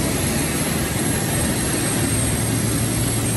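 Jet engine of an airliner on a midnight flight to Srinagar, a steady, loud broadband roar with a low rumble that holds constant throughout, with no voices.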